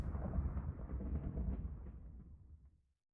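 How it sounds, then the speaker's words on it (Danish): Thunder in a video game rumbles low and deep, a long rolling peal that fades away over about three seconds, faint and alone. "Nu kan jeg høre tordenen."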